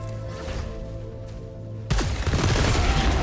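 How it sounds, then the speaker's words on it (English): A weapon's alternate fire goes off in the video game Returnal: after a low electronic hum, a sudden dense burst of booming, crackling shots erupts and keeps rumbling loudly. "Augments my weapon with an alternative firing mechanism."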